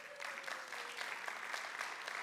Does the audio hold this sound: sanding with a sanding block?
no